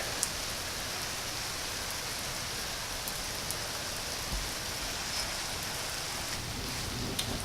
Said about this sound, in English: the weather changed outside on us, as you can see. Raining pretty good, actually.